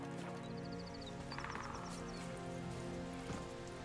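Horse hooves clip-clop at a steady trot in The Witcher 3, with game music and ambience running underneath throughout.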